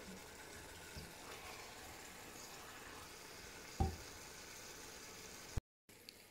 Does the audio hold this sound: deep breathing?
no